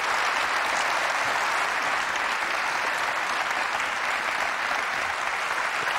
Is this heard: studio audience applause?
yes